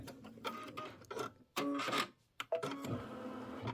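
A computerized embroidery machine stitching Kimberbell's Quilty Little Christmas wall block, with bursts of whirring needle clatter and a couple of sharper mechanical clicks as the thread cutter trims, close and moderately loud with short pauses between.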